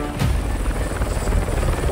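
A helicopter thumps loudly nearby, its rotor chop steady and heavy with a broad engine roar throughout.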